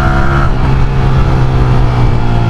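A motorbike engine roars loudly and close up while riding through night traffic, a steady heavy drone with slight revving surges throughout.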